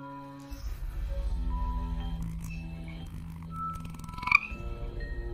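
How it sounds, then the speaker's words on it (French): A frog croaking sound effect plays within a read-aloud children's story, with a run of low, throaty croaks over a steady musical bed, ending in a brief sharp accent. "Et Randy est une grenouille."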